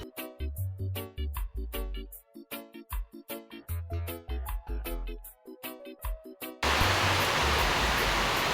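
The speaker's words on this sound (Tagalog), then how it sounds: "Maulan po ngayon" Rain begins falling outdoors near a creek-side kitchen area, a steady broadband hiss rising suddenly in the last two seconds after rhythmic music-like knocking and thumps.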